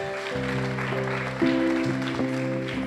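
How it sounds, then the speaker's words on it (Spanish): A church congregation claps for the Lord over sustained organ or keyboard chords, a loose patter of hands under the steady music that swells briefly midway. "Si quiere aplaudir al Señor, aplauda."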